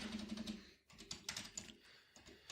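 Steady typing of code on a computer keyboard, a run of close, crisp key clicks with short pauses between bursts, no voice present.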